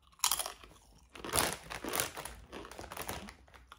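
Crunchy Lorenz Crunchips Rustics Just Salted potato chips are bitten and chewed close up, giving several loud, brittle crunches in quick irregular bursts with no talking.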